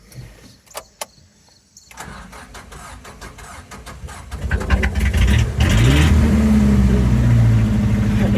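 A car's engine cranks over and catches, its low rumble building to a loud, steady idle close by, with a few sharp clicks and whirs beforehand.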